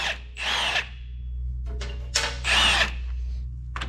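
Impact or power tool loosening 15 mm bolts on the front hub and ball joints of a Polaris Ranger, several loud close bursts of whirring and rattling separated by short pauses.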